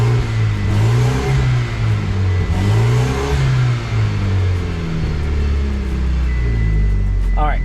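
A Mitsubishi Evo X MR engine fires up for its first start after work on the car and revs repeatedly, loud and close, with rising and falling engine tones and a voice briefly heard near the end.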